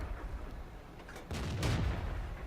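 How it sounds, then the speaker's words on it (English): T1 Heavy tank gun firing in the World of Tanks video game, a single sharp cannon blast followed by a rumbling boom. "It's got a very good gun, shooting the AT-2 from a distance also."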